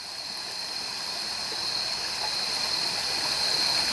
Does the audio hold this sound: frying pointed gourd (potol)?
no